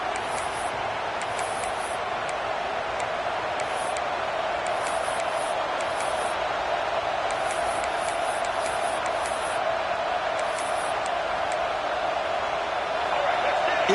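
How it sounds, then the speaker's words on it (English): A packed stadium crowd roars in the EA College Football 26 video game during Arkansas versus Texas Longhorns, a steady dense wall of noise with scattered high whistles and cheers across the whole stretch. "It's early, but this crowd is fired up. Listen to this noise here."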